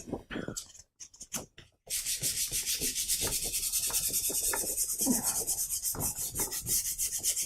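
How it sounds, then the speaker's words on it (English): Steady back-and-forth rasping of 400 grit sandpaper rubbed over the surface of a rose painting, continuous and close after a few short scratchy strokes at the start, with no voices. "So this here is 400 grit sandpaper, and I'm going to use that to smooth out some of what I just did."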